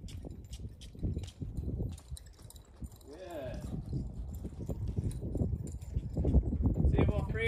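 Horse hooves clip-clop at a walk during a first ride on a mare, a steady near rhythm running under a trainer's ongoing talk.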